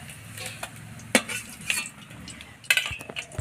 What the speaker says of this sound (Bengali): ভাজা হয়ে গেছে মাশরুমটা, আমি এবারে তেল ঝাড়িয়ে আস্তে আস্তে তুলে নেওয়ার চেষ্টা করছি।